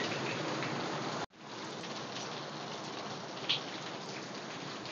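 Steady heavy rain falling outdoors, a dense continuous hiss with a brief cut near the start, otherwise unbroken and close.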